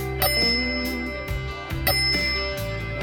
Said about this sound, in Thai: ความกังวานของกระดิ่งนะ